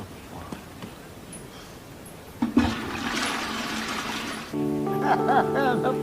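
A toilet flush in a film scene starts abruptly partway through with a loud, close rush of water that keeps roaring steadily, while tonal background music joins over it near the end.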